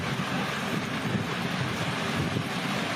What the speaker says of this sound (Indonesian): Video amatir warga merekam angin puting beliung yang menerjang permukiman Desa Bugis